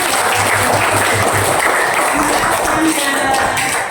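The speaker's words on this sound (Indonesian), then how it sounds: "tepuk tangan ke Angga" A classroom group gives a student a round of applause, loud and continuous, with faint voices mixed in beneath the clapping.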